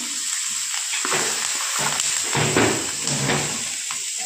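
Capsicum, onion and peas fry in butter on a hot tava with a steady, close sizzle, punctuated by repeated spatula scrapes and stirring clicks.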